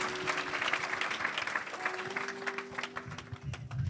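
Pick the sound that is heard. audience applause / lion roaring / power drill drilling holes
audience applause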